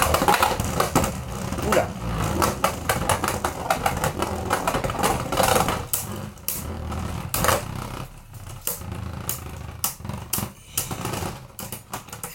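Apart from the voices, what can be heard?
Beyblade spinning tops battling in a stadium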